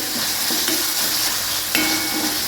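Ginger, garlic and coriander paste frying in a pan, a steady dense sizzle running throughout with occasional louder crackles and light stirring.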